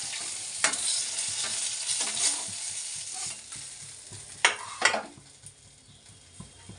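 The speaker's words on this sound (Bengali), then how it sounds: "এই যে পেটি মাছটা ভাজা হয়ে গেছে" Rohu fish belly pieces fry in hot oil in a home kitchen, a soft continuous sizzle broken by several sharp scraping stirs and clinks of a utensil against the pan.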